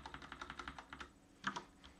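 Rapid keystrokes on a computer keyboard, a steady run of close, crisp taps for about a second, a pause, then a few more clustered taps.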